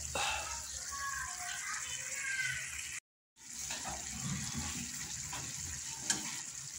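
Adobong sitaw (string beans) with vinegar boils and sizzles in a pan, a steady bubbling hiss that breaks off briefly and then resumes, with a faint low voice underneath.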